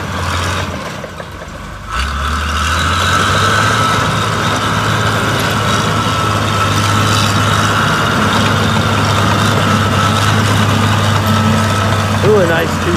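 A 1993 Case 855E crawler loader's diesel engine settles into a steady, loud, low idle with a constant deep drone after a brief quieter start.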